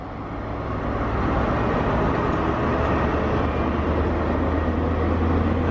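A train rumbles past at close range, with a steady broad roar and low rolling drone that holds for several seconds without talk.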